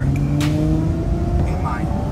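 A Ferrari 812 Superfast Mansory accelerates, its engine rising in a layered revving tone under excited talk from people inside the car, loud and close throughout.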